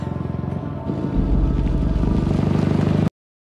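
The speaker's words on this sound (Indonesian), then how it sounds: "sepeda motor" A motorcycle engine roars in a film, a loud throbbing rumble that grows heavier after a second, then cuts off abruptly.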